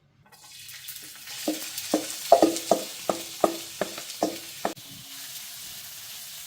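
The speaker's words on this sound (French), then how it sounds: "on va faire bien cuire les oignons" Onions frying in hot olive oil, a steady sizzle under a run of about nine evenly spaced knocks and scrapes of a utensil stirring the pan, close and clear, then the stirring stops and the sizzle carries on alone.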